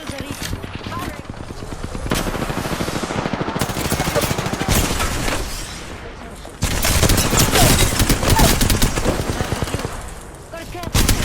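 Rapid automatic gunfire bursts in the video game Apex Legends, a Season 7 match with Rampart, sounding loud and close in sustained volleys with brief lulls between them, while a voice talks over the shooting.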